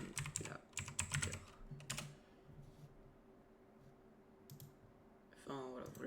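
A few mouse clicks followed by quick keyboard typing to name a new folder on a computer, with close, crisp key taps in a rapid cluster, then quiet, and someone speaking at the start and end.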